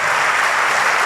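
Loud, dense applause from a church congregation, a continuous close wash of many hands clapping at once with no pauses or voices standing out.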